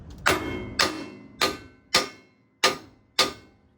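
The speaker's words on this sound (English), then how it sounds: "I'm gonna hit it with the hammer so it won't fully drop quick" Six sharp metallic hammer strikes on a Ford F-150 truck axle ring out at a steady pace, each a loud clang with a short ringing decay.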